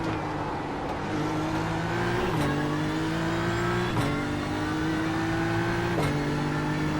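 Porsche race car engine in iRacing at a 12-hour endurance race at Bathurst, a steady high-pitched drone holding near full throttle, broken by three quick upshifts that drop the pitch before it climbs again, loud and alone.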